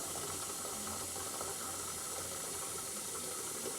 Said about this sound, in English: So I have to fill these jugs up